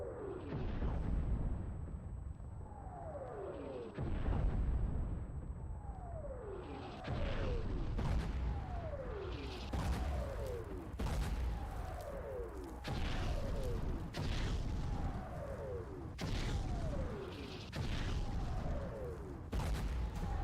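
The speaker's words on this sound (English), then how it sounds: "Mortar incoming." Incoming mortar rounds in a video game give repeated descending whistles, each ending in a heavy, booming explosion, roughly every couple of seconds in a long barrage.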